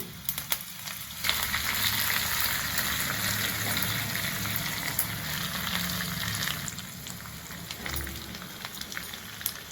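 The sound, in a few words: tempering of mustard seeds, cumin, urad dal, onions sizzling in oil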